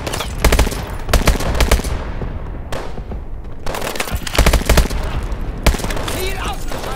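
Gunfire in Call of Duty: Advanced Warfare: loud, close bursts of rapid automatic shots recur in several volleys separated by short lulls, with faint game sounds between.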